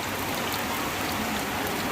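Light rain falls steadily outdoors near a momo stall by a stadium in Cuttack, a soft continuous patter that stays even and unbroken throughout.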